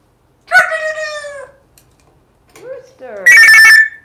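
Parrot imitating a rooster crowing, a loud close cock-a-doodle-doo call at the end preceded by other squawky vocal sounds, alone in a quiet room.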